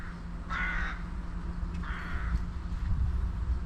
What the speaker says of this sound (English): Wish crows would fuck up.